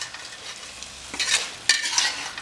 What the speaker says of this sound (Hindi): अब इसको अच्छे से हम मसाले के अंदर मिक्स कर लेते हैं।